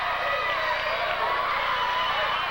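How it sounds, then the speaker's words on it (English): Wrestling arena crowd in Reading, Pennsylvania roaring and cheering wildly after a big hip toss, a dense sustained wall of noise throughout with no pauses. "And the crowd is going nuts."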